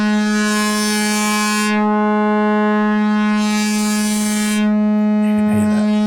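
Mutable Instruments Elements synth modelling a bowed string while its brightness control is turned: a steady sustained drone whose upper shimmer fades and returns twice, loud and close, with a small knob-like noise near the end.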